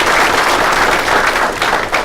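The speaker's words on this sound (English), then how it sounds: "So please give them a big round of applause." A crowd at an August 2017 swearing-in ceremony breaks into dense, loud applause for the command team, a continuous wash of many hands clapping with no talking.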